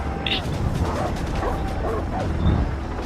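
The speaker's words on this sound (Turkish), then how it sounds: "Köpek geliyor oğlum." Dogs bark and yip in short bursts in the video game Far Cry 3, with a whimper among them, mixed with excited voices and background noise.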